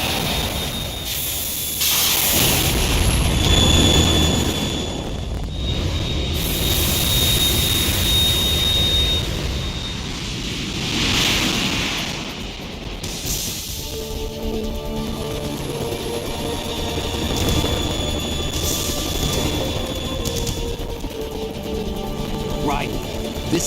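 A Harrier jet in the stealth game Metal Gear Solid 2 roars and hisses loudly and steadily, swelling and fading over about twenty seconds. Voices and game music play over the engine noise.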